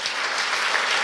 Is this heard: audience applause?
yes